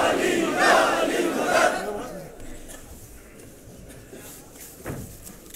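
A crowd at a religious gathering in Kargil, marking the birth of Imam Ali, chants the Nara-e-Haidari slogan in a loud collective roar that fades after a couple of seconds into quieter hall ambience with a brief voice.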